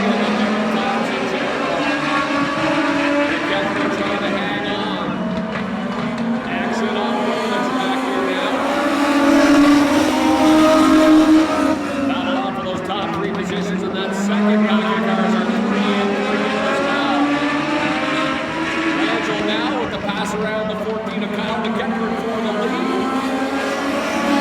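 Legends division race cars snarl around the Oyster Bed Speedway oval in a Labour Day Monday race, engines swelling and fading as the pack passes, under continuous commentary.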